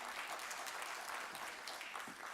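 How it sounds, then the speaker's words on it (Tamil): A crowd at a Thirukkural event in Delhi claps steadily, a dense wash of hand claps filling the whole moment at a moderate, even level. "எல்லோரும் பலத்த கரகோஷம் எழுப்பி வரும்படி கேட்கு"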